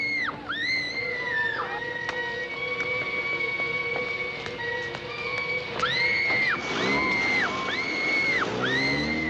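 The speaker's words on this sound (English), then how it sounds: "people are just skating and having fun and screaming" A crowd of people skating and screaming at an ice rink, with repeated high wavering shrieks and whoops over a steady hum and scattered clatter, several voices rising and falling close together.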